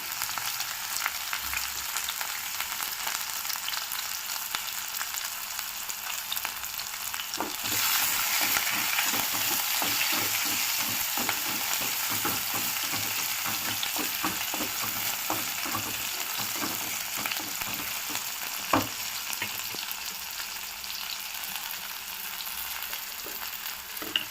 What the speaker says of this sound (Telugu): ఇప్పుడు ఇందులోకి ఆనియన్ అండ్ కరివేపాకు వేసుకుందాము ఇది కొంచెం వేగాలి